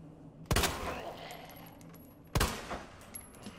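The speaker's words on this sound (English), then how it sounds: "let me shoot him through the bars" Two loud gunshots ring out in Resident Evil 2 Remake about two seconds apart as the player fires through bars. Each shot is a sharp crack with a short ringing tail, and faint ambient game sound runs beneath.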